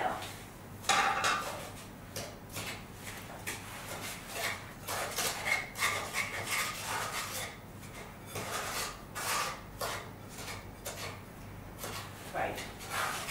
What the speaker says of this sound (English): Why don't you mix that together?